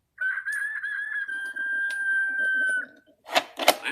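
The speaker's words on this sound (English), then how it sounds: "The rooster says" A toy rooster gives one long, steady, electronic-sounding crow lasting nearly three seconds, followed by a couple of short clicks or knocks from handling the toy.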